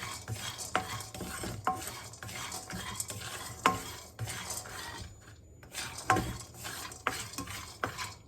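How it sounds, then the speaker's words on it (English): Peanuts roasting in a pan for chutney, a spoon scraping and stirring them in repeated clattering strokes over a faint dry sizzle, close and alone. "Roast it with your peanut a little bit, because it is already being roasted"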